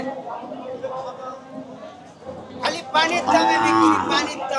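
A cow lows loudly and close by at a busy Eid cattle market in Naogaon, a drawn-out moo rising over the murmur of chatter and market noise after a quieter stretch.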